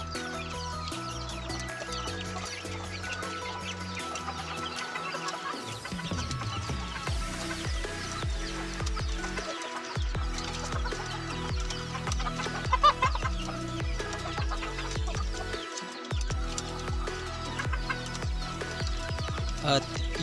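Chickens clucking steadily in a cage while being fed, with repeated close clucks and rustling movement that keep going throughout, with no talk heard over the flock.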